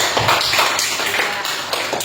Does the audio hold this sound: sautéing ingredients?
no